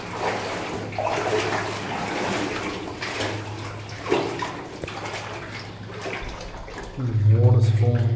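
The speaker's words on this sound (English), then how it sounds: "Water's falling." Water falling and dripping inside an old gold mine with stalactites, a continuous wet trickle and patter echoing in the underground space while people talk over it.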